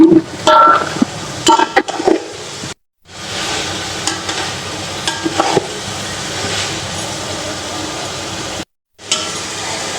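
Chicken frying with masala in a pot for yakhni pulao, a loud steady sizzle with scraping stir strokes and a few metallic clinks, cutting out briefly twice.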